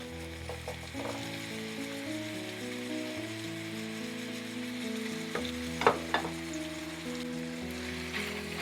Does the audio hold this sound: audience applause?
no